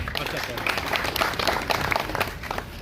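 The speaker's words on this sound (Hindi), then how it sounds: "एक बार जोरदार तालियों के साथ साथियों" Crowd of party workers at a political meeting in Haryana bursting into loud applause, a dense, busy patter of clapping with voices mixed into it.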